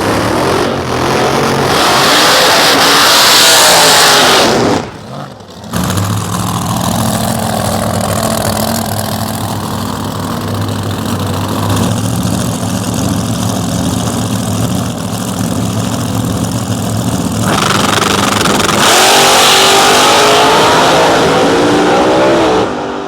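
A drag racing car on the start line idles roughly and is revved hard in loud bursts nearby, with a brief cutout partway through before the engine picks up again.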